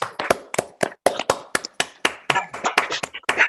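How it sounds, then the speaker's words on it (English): Online meeting participants clap together over a video call, a sparse, uneven burst of individual claps and taps arriving in quick succession, close and crisp, with no talk. "if we could just unmute and maybe clap"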